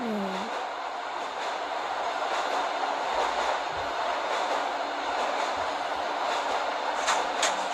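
A subway train in the Subway Simulator 3D game runs steadily toward the next station, a continuous rumbling ride with rail noise, a brief squeal at the start and faint clatter throughout, with no talking.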